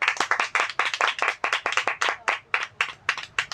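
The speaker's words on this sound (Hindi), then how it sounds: "प्रभु के लिए ताली बजाइए कस के।" A church congregation at a prayer service claps together for the Lord, loud close rhythmic hand claps in a brisk, fairly even beat with no talking.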